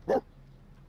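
A single short dog bark from a puppy in The Sims 4 Cats & Dogs, one clear loud burst at the start followed by quiet game ambience.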